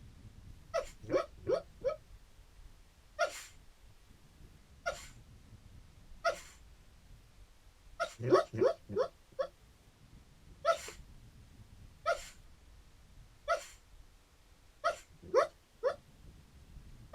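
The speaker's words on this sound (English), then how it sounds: "I heard a doggo bark." A sleeping, dreaming dog lets out soft whimpers and muffled little barks in short clustered bursts, some doubled or tripled, with quiet gaps between, close by in a calm room.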